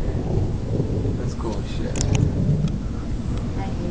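Low rumbling thunder from a Florida lightning storm rolls on continuously in the distance, with wind noise on the microphone and someone speaking briefly over it.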